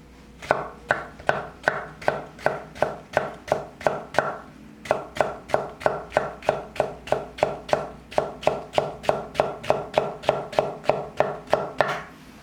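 Brisk, regular kitchen-knife pull-cuts tap a cutting board in a long steady run, with one brief pause partway through.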